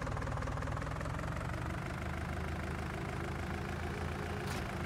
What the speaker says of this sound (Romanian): Ia tractorul.